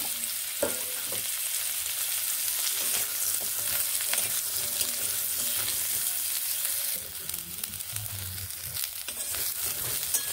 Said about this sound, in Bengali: এইভাবে নেড়ে সজনে ডাঁটাগুলোকে ভালোভাবে ভেজে নেব